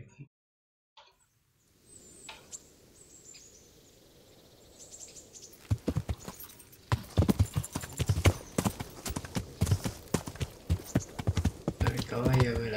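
Horse hooves clip-clop steadily on the ground in the medieval role-playing game Kingdom Come, a dense run of close, loud strikes that builds after a quiet start, with faint birdsong and ambient noise behind.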